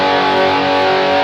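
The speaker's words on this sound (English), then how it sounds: "The SD2 is massive chorus that's distorted." A BOSS eBand JS-10 running its SD2 preset produces a dense, saturated 1988-style chorused distortion guitar tone, a loud sustained wall of sound throughout.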